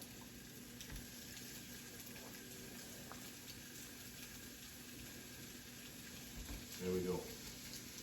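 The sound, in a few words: sausage patties frying in a pan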